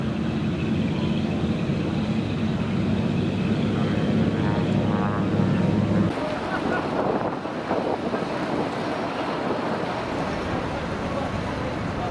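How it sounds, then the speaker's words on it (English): Distant propeller float plane taking off on the Alaska coast, a steady low drone that carries on under wind and water noise, with a broader rush in the second half. "Float plane taking off in the distance."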